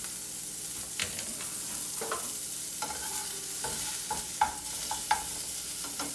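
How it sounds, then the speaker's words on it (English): Sausage and egg frying in an oiled pan, giving a constant sizzle throughout, broken by repeated scraping and chopping taps of a utensil against the pan. "I'm chopping this sausage up as I cook it"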